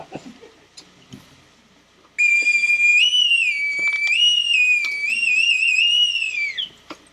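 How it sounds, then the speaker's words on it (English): A single long, shrill whistle blast wavers in pitch for several seconds after a moment of faint background noise. "Dave, you can blow your whistle"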